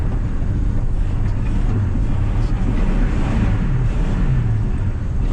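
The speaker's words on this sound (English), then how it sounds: "A lot of strange rattling noises going on." A 1968 Ford F100 pickup truck drives along, its steady low engine rumble mixed with loose rattling and broadband wind noise, continuous and close throughout.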